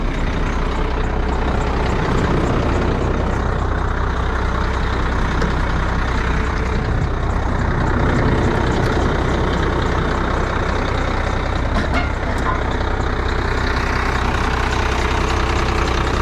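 Old dump truck engine running at a steady idle, a continuous loud low diesel rumble with no talk, close and unchanging throughout.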